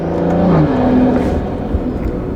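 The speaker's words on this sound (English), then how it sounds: "Let's see how aggressive my upshifts are." A big-turbo BMW M340i accelerates hard through upshifts, a loud, close engine roar with rising pitch that drops at each gear change.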